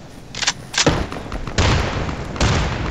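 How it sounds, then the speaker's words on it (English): A grenade explodes in the tactical shooter Insurgency, heavy booming blasts with sharp cracks and noisy tails, several bursts in quick succession amid battle noise, with no talk over them. "Grenade out! I'm throwing a grenade!"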